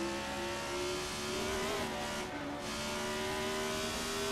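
A retro Formula 1 car in the Assetto Corsa racing game, its engine holding a steady high drone that dips briefly mid-clip and then climbs again, loud and continuous.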